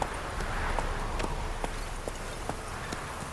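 Roach, a horse in The Witcher 3, gallops steadily, its hoofbeats clear and evenly spaced over a soft ambient bed at moderate volume.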